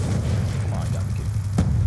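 A sniper rifle shot in a first-person shooter game, one sharp burst standing out near the end over a low, steady rumble of game noise.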